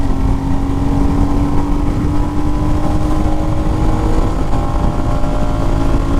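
A Royal Enfield Meteor motorcycle pulls hard through its gears in a top-speed run, its engine a loud, steady, close drone mixed with rushing wind and no talking.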